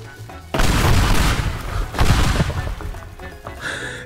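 An explosion from Minecraft lucky blocks in the video game Teardown: a loud sudden boom, then a second heavy burst with crashing debris and rumble fading out.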